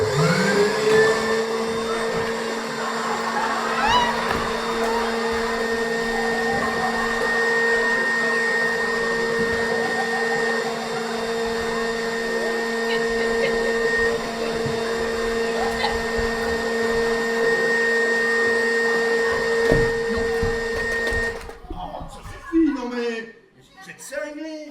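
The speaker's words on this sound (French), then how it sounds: "Aspi. L'aspirateur troisième millénaire." A vacuum cleaner, presented as the Aspi third-millennium model, drones steadily and loudly for about twenty seconds, then cuts off abruptly, leaving a short stretch of voices and movement at the end.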